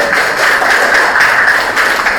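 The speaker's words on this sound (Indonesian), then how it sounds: "Tepuk tangan." A class claps hands in a classroom, a brief, dense burst of rapid, evenly loud clapping from many people close together, with no talk over it.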